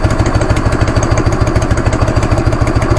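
Harley-Davidson Evo 1340 V-twin motorcycle engine idling after a pushrod adjustment on cold oil, a loud, close, steady lumpy chug with a faint ticking valvetrain clatter running through it.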